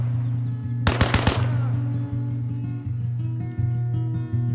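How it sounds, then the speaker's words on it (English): Machine-gun fire in the video game Arma Reforger, Conflict mode: a short, sharp rapid burst of several shots over a steady low in-game engine drone, with the burst ending quickly and the hum continuing alone. "some are gonna now hear the gunshots"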